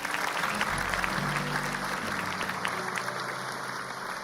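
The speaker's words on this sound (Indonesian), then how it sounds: "Tepuk tangan buat mereka." A studio audience applauds on an Indonesian television show. Dense, steady clapping runs throughout at close range, with a low hum and faint voices underneath.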